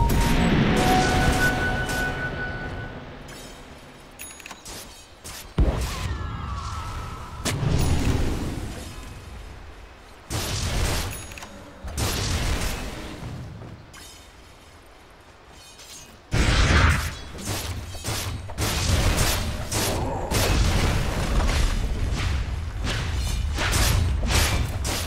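Dota 2 match audio with towers under attack, a dense stream of loud thuds, crashes and impacts in repeated bursts layered over game sound and music, cutting in and out with brief quieter gaps.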